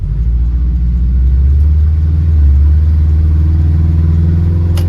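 A VW bus fitted with a Subaru 4EAT automatic and a Reversaru gear-driven reverser kit drives along a country road, its engine giving a loud, steady low rumble with a slight swell midway, no voices.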